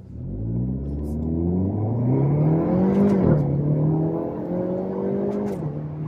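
A 2024 Hyundai Elantra N accelerates hard, its engine rising in pitch through a gear, briefly dipping at a shift, then climbing again, loud and close from inside the car.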